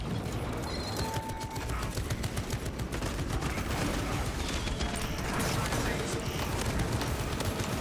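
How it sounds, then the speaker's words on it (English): Tarantula sentry gun firing in Space Marine 2, a dense continuous rattle of rapid automatic shots with battle noise, loud and sustained throughout. "Activating tarantula sentry gun."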